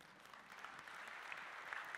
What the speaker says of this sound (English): if you don't want to vote, just clap quietly